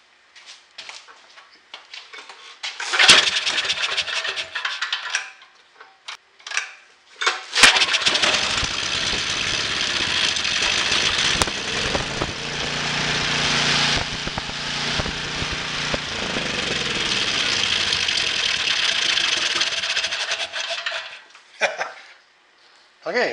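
A Craftsman generator engine that had refused to start and has its valves exposed and oil splattering runs loudly and steadily for about twelve seconds between brief sputters and bursts, with talk at the start and end.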